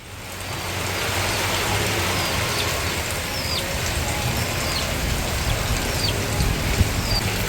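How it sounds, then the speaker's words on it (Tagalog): Heavy rain pours down on a hut in a dense, steady roar, with wind. Faint bird chirps break through now and then. "Lakas po ng ulan"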